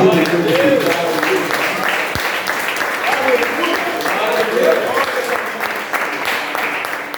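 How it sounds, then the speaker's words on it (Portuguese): A church congregation applauds steadily throughout a garage worship service, a dense, even wash of clapping held at a constant level from start to finish with no speech over it. "Mais uma vez você pode aplaudir."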